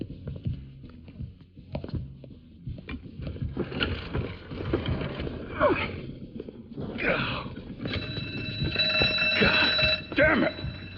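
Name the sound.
alarm triggered during heist in Mafia III video game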